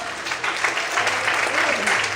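Congregation applauding in a church service, a steady dense patter of many hands clapping at close range, with a voice speaking faintly over it.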